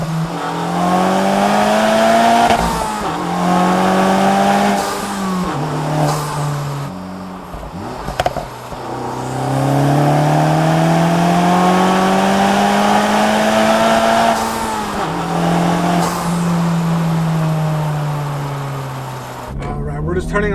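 Honda Integra Type S with a turbo and aftermarket exhaust revving and pulling through the gears on a side street, loud rising engine sweeps heard from inside the car with occasional speech over them.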